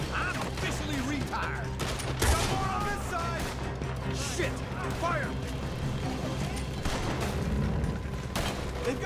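Gunfight in Red Dead Redemption 2, with scattered gunshots and sharp crashes over a steady din of game music and effects. Voices shout across the exchange, and one louder crack stands out near the middle.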